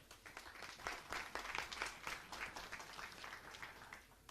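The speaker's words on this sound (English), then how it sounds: "Big applause for her." Applause at a women's 10m air rifle standing final after a shooter's result, a sustained spread of many hands clapping, fairly faint and distant across the hall.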